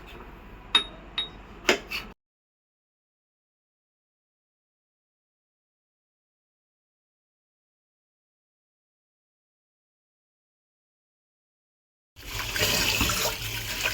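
Rice being washed in water, rinsed three times while preparing homemade dog food. A few sharp clicks come first, then a long silence, then a short burst of close running and splashing water at the end.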